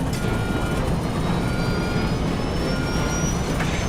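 A dramatized airliner on Flight 708 drops fast from around 31,000 feet during a storm, giving a loud, steady engine roar with a slowly rising whine and no voices.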